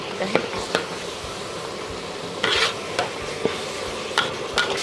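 Curry powder being stirred into chicken frying in a pot for khao mok gai, a low sizzle under several scraping spoon strokes and light clinks, moderately close.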